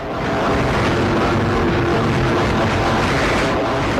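A radio jamming transmitter's noise generator produces a loud, dense, unbroken broadband roar that stays constant throughout without rhythm or variation.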